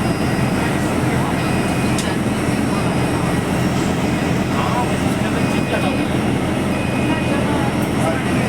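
An airliner's engines roar steadily on the apron at Kathmandu airport, a continuous broadband jet hum. Faint background voices and scattered clicks sit under it, with no distinct spoken words.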